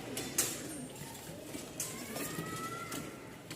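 American fantail pigeons in a loft give soft, low cooing calls, a few faint murmuring phrases spread over a few seconds against a quiet background hum.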